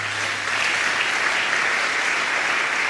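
Church congregation applauding to acclaim the Lord, a dense, steady wash of many hands clapping together that holds loud and even for the whole few seconds, with a faint low hum beneath it at the start.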